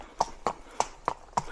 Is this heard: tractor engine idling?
no